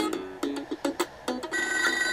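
Electronic telephone ringing inside the Sega Mega Drive game ToeJam and Earl: a series of short, bright bursts in quick rhythm, ending in a sustained tone, fairly loud with no talk over it.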